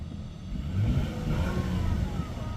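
A Nissan Teana 2.4 with automatic gearbox revving up, a low rumbling engine swelling in a single blip and holding a steady roar, close and fairly loud with no talking.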